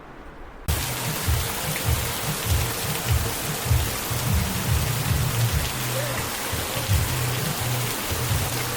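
Heavy monsoon rain in the Konkan pours down in a loud, unbroken hiss that starts abruptly and stays steady, with low rumbling drumming underneath, and no voices.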